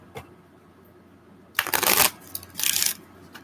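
Tarot cards are shuffled by hand in two crisp, rapid riffling bursts, close and clear, following a quiet pause with only faint handling noise.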